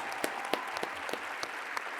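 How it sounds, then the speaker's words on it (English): Brief applause from a small audience during an interview, a couple of seconds of steady clapping with a few sharp claps standing out, heard alone without talk. "we gotta give her a round of applause."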